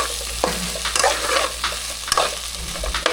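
Dried shrimp and potatoes being stirred in a hot pan, a continuous close sizzle with a spatula scraping and tapping at irregular moments, alone without voices.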